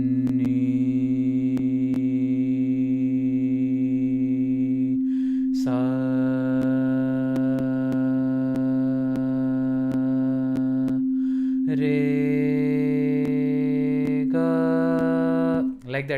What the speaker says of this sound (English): You can hear the interaction with the sine wave